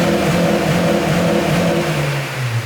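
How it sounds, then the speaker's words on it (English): A Honda CL7 Accord Euro R rumbles past close by, its engine revving loud and steady with a rising, then easing note as it goes by. "Whoa, a CL7 Euro R Accord."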